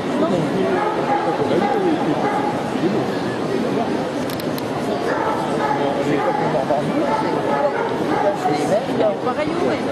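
Pointing dogs at the Paris agricultural show in 2011 bark and yip amid a dense crowd hubbub in a large hall, with people talking close by throughout.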